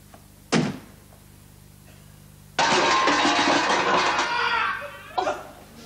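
An indoor door bangs once sharply, then after a pause opens onto a burst of loud laughter and applause from a studio audience, followed by another thud as it closes.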